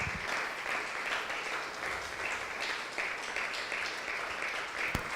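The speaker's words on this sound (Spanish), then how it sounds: "Démosle un fuerte aplauso al Eterno." A church congregation applauds together in a steady, dense wash of clapping that holds for several seconds, close and full, with no talking over it.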